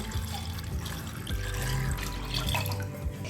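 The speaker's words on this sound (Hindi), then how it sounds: "अब हम इसमें डालेंगे 1/2 लीटर पानी।" Half a liter of water is poured into a pot of chickpeas with spices for chana masala, a close, steady splashing gush with no talking.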